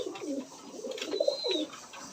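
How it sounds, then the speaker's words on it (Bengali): Fancy pigeons in cages at a pigeon farm coo in soft, low, rolling phrases that repeat several times, heard close and steady with no talk. "কিন্তু কবুতরগুলি খুব সুন্দর কোয়ালিটিফুল কবুতর।"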